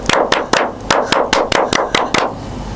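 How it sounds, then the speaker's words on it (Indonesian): A Pramuka scout rhythmic clap: about a dozen sharp, loud hand claps close by, struck in a quick patterned rhythm with short pauses between groups, nothing else heard. "Tepuk tangan Pramuka."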